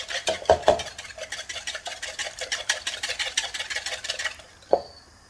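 A utensil scrapes and stirs chicken and onions in a pan in quick, regular strokes, with a few sharper clinks against the metal and a final knock, close and fairly quiet.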